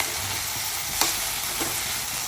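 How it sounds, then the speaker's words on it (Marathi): Vegetables for Bhogi curry are stirred in a hot pan, giving a quiet steady sizzle with a couple of soft scraping strokes and no talking. "दोन तीन वेळेस याला आपण अशी हलवत राहायचं."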